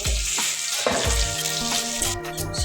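Onions fry in a pan of hot oil with a loud, constant sizzle, broken by scraping and clattering from stirring. Nobody speaks.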